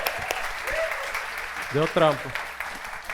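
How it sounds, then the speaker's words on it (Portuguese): An audience at a church gathering applauds steadily in the background while someone speaks over the clapping. "Uma salva de palmas pra todo mundo aí da"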